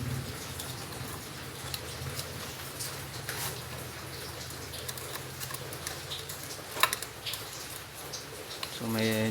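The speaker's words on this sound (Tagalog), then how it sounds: "medyo maingay yung background natin gawa nung malakas yung ulan ngayon" Heavy rain falling steadily during indoor electrical wiring of a three-way and one-way switch, a broad continuous patter with scattered drops and ticks under the work, with no speech.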